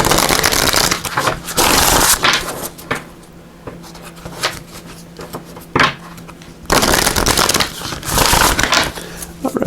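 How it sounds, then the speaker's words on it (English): Oracle cards from a Celebration of Love deck are shuffled close up in repeated loud riffling bursts, with quieter pauses between them and no talking. "We're also going to pull a card here from these Celebration of Love Oracle"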